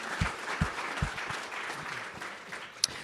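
Audience applause at a nonprofit network's 20th anniversary celebration, a faint patter of scattered claps from a modest crowd, thinning out over a few seconds.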